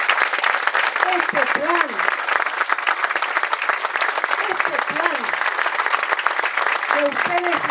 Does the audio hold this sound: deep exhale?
no